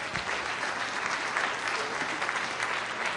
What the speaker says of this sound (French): On vous donne une bonne main d'applaudissement.